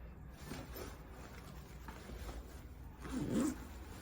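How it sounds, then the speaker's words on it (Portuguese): A zipper on a padded cot bumper pulls open quietly against a hushed room, ending in a short, sharper zip burst near the close. "deixa eu abrir aqui o zíper"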